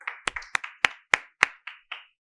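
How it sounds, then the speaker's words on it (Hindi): Audience at a patriotic poetry gathering claps in sparse, distinct hand claps, about ten crisp beats that fade out after two seconds. "आप सबकी जोरदार तालियों के बीच आमंत्रित हैं"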